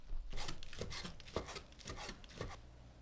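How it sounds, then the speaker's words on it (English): Soaked shiitake mushrooms are squeezed and cut into small pieces, making a quiet run of soft, quick knife chops and rubbing scrapes without talk. "Squeeze the shiitake mushrooms to remove water and cut them into small pieces."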